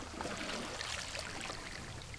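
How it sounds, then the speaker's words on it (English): Ocean water washing up onto rocks along the Maine shore, a continuous hissing, trickling wash that stays steady and fairly near. "this is the sound of the ocean coming up onto the rocks in my neighborhood in Maine"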